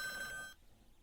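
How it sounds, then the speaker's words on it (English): A telephone in the Police Quest 1 computer game gives a short electronic ring, a steady tone lasting about half a second that cuts off abruptly, with no voices. "Ah, telephone."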